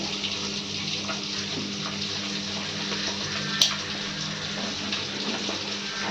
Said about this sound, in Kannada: ಹುಣಸೆಹಣ್ಣು ನೀರು ಹಾಕ್ತಿದ್ದಾರೆ ಮಸಾಲೆಗೆ.